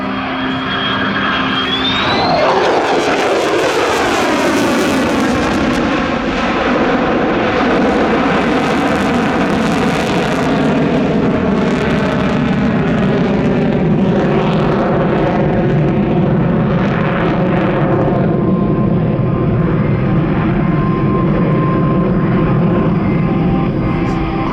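An airplane performing a tactical pitch maneuver at the Geneseo, New York airshow, its loud engine roar sweeping past with a falling pitch, then a sustained throbbing drone that lingers for the rest of the pass.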